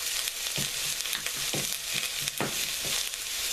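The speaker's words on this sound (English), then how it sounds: "The onion and the celery. And we'll let that cook up into it." Chopped onion and celery sizzle steadily in a pan, a continuous frying hiss broken by repeated soft stirring knocks.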